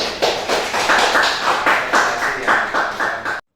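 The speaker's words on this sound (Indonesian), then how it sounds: "Tepuk tangan dulu." Classroom students clapping in unison: a brisk, rhythmic run of about a dozen sharp claps, fairly loud and close, ending abruptly.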